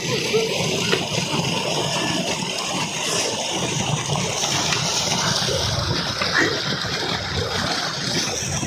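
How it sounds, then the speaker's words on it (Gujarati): Water flows across a large wheat field during irrigation, a steady broadband rush and splash that holds at a constant level throughout, with no voices over it. "કાકાએ આટલા મોટા ખેતરની અંદર ઘઉં વાવ્યા છે તમે જોઈ શકો છો અને હાલ પાણી વાવી રહ્યા છે"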